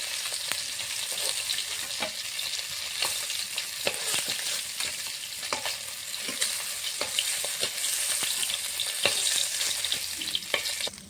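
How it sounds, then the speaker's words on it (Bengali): Rupchanda fish fries in hot oil, giving a steady, close sizzle with scattered crackles and pops across the whole stretch, with no voices. "এখানে মাছটা লাল লাল করে ভেজে নিয়েছি"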